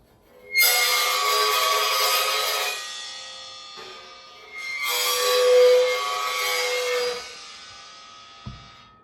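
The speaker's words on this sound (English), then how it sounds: "Another type of scrape, by placing the tip of the stick on the cymbal and then sliding it." Drumstick tip pressed onto a drum-set cymbal and slid across it, giving two long, bright, close scraping squeals of a few seconds each, separated by a short pause, with a small tap at the end.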